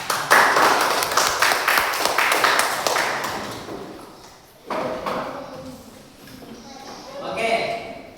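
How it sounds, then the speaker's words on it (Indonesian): Students in a classroom applaud a presenting group, a burst of fairly close clapping that fades out midway, followed by a teacher talking and a few scattered knocks. "Oke, tepuk tangan untuk kelompok"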